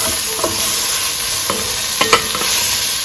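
Onion and crushed garlic sizzle steadily in a hot pot for a beef pot roast, with a loud continuous frying hiss broken by a few light stirring scrapes.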